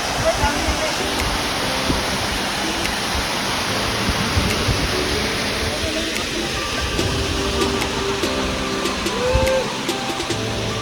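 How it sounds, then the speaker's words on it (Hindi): Water pours steadily down the rocky falls at Phe Phe Falls in Meghalaya, a constant close rushing roar, while people talk faintly over it. "ये देखो, और नीचे पानी बह के आता है"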